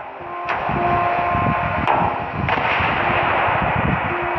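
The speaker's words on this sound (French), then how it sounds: "Les explosions de dynamite des carrières continuent aujourd'hui encore d'ébranler le massif" Sharp blasts crack out at intervals over a steady rumbling background, a few distinct explosions echoing like distant quarry dynamite.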